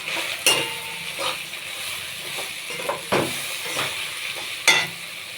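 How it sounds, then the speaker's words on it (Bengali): Spices are stirred with pumpkin and fish head in a sizzling pan, with salt and turmeric added. A spoon scrapes in several distinct strokes over a soft, continuous frying hiss. "মশলাগুলো ভালো করে মিশিয়ে নেব।"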